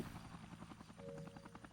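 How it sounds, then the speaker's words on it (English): Helicopter in the Dead Rising video game, a steady rhythmic rotor chop with a whining engine tone, moderately loud and continuous with no voices over it. "all I had to do was just shoot down the helicopter that was in the overtime mode"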